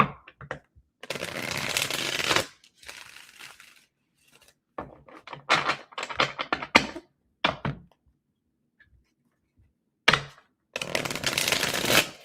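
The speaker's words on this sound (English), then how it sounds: "give me a few seconds to get a good shuffle for Leo" Tarot cards are shuffled in several loud, close bursts of rapid riffling and flicking, broken up by short silent pauses, with no talking.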